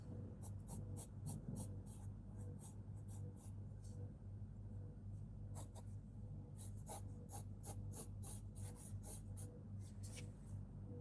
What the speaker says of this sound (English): You can hear the scratchy scratchy of the pencil.